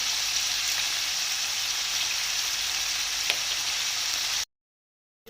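Ground beef mince frying in a pan, a steady dense sizzle with no talk, cutting off abruptly near the end.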